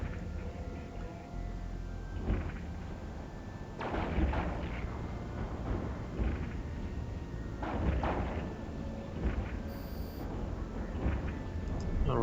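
Weapons in the EVE Online space game firing at an enemy ship during a combat tutorial mission, with repeated deep, booming volleys every couple of seconds over a low rumbling background.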